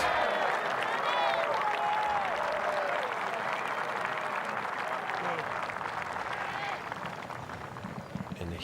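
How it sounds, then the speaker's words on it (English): Packed golf gallery around the 16th green at the PGA Championship erupting in loud cheers, whistles and sustained applause that slowly fades, while voices call out over the roar. "Jordan Spieth gives that crowd something to cheer for, just like Every was talking about."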